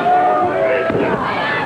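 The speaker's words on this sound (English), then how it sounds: "The fans are trying to cheer him on." Crowd noise from wrestling fans at a 1985 Stampede Wrestling TV match, a loud continuous roar of cheering and shouting that swells briefly midway, with no clear talk on top.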